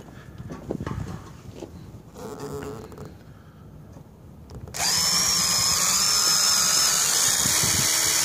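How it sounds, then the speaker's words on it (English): A power drill bores a hole to fasten down a dish mount for an SXT antenna, first as intermittent quieter bursts, then as a loud, steady high-pitched whine that continues to the end. "we're going to drill a hole to fasten down the mount for the SXT"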